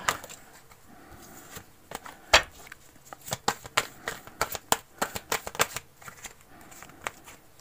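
A deck of playing cards is shuffled and handled, with a run of crisp riffling snaps and flicks close by, quickening through the middle, with no talk.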